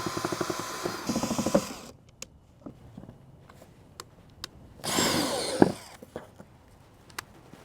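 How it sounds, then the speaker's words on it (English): A power drill whirs in two loud bursts while drilling holes in a compost bin on a windy rooftop, separated by quieter clicks and knocks, close by with no talking. "That was a lot of holes to drill"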